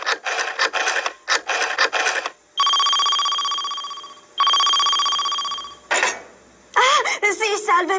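A cartoon telephone rings in two long, loud electronic trilling bursts, framed by animated character voices talking before and after.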